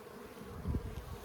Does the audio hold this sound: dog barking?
no